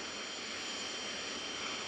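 A CRJ-1000 jet taking off in a flight simulator game gives a steady, unbroken engine roar at moderate level, with no talking.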